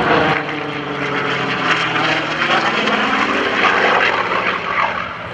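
A loud F4U Corsair propeller fighter plane roars past close by during an air show, its engine drone swelling and then easing away.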